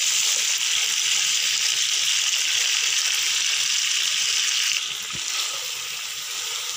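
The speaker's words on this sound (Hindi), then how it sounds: "प्याज शामिल करने के बाद अब हम प्याज को इसके साथ भूनेंगे" Chopped onions and whole cumin sizzle in a pan for bhindi, a loud, steady hiss that eases slightly partway through, with a brief clink near the end and no voices.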